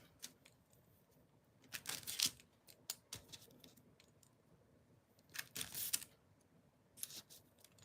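A small nugget of polymer clay is cut close up at a craft table, giving a few short, crisp slicing and tapping sounds in separate bursts. Quiet stretches fall between them.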